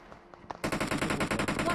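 Rapid automatic gunfire in a shooter video game, beginning abruptly after a few faint taps and continuing as a loud, dense burst of shots.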